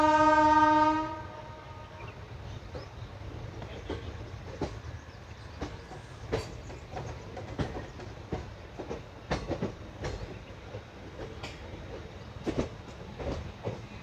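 A train pulls into Vansjaliya junction on the Rajkot–Porbandar route, opening with a long loud horn blast, then a steady rumble with repeated wheel clacks and clunks as the cars roll in.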